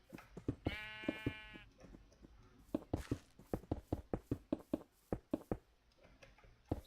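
A Minecraft sheep in the Traincraft mod gives one clear, wavering bleat near the start, followed by a steady run of sharp clicking taps from block placing or digging, with no talk.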